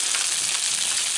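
Salmon fillet frying skin-side down in a pan over very low heat gives a steady, even, bright sizzle with no pauses and no voices.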